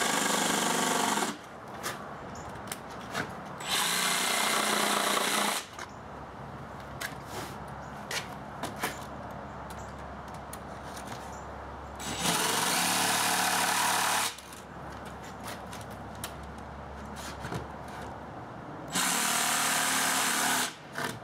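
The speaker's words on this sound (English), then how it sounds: "I use a jigsaw to finish off the corners" Jigsaw cutting out the corners of a table insert, loud buzzing bursts of cutting alternating with quieter pauses, several passes in a row with no talking.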